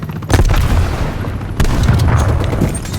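Two heavy shotgun blasts go off in a hardcore-mode video game, loud and booming, each followed by a long rumbling tail.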